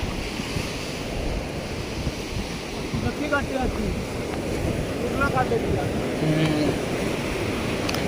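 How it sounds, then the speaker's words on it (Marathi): Sea waves breaking on the Konkan shore at night, a steady broadband wash of surf with wind noise rumbling on the microphone, while a few people talk briefly over it. "बऱ्याच दिवसाने आलो आहे समुद्रावर आवाज ऐकूक"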